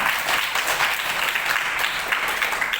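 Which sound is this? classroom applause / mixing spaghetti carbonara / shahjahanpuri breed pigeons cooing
classroom applause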